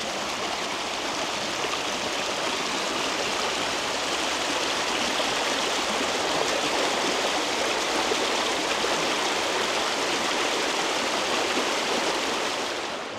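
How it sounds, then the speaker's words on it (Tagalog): A stream rushes steadily and close by in Seoul, its broad, even wash of flowing water holding at a constant loudness throughout with no voices. "Pakinggan nyo yung tubig."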